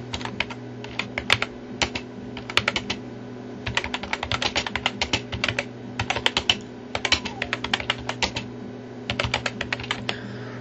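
Rapid clattering keystrokes on a computer keyboard while entering text in Photoshop, coming in quick bursts with short pauses, close and clear over a steady low hum.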